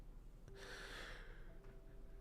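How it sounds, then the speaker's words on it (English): A man's long, drawn-out yawn during a live forex trading stream, one breathy exhale swelling and fading over about a second, close to the mic above a steady low background hum. "I don't know why I'm yawning."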